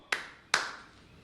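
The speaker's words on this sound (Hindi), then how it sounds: "नहीं, ताली बाद में बजाइएगा" Two sharp, separate hand claps ring out in a TV studio during a political debate, close and crisp with a short gap between them and no other sound.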